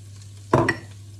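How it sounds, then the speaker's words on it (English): A single brief scrape and rustle of a spoon stirring cabbage with salt, ground ginger and turmeric in a pan, close and short over a steady low hum. "Give it a good stir"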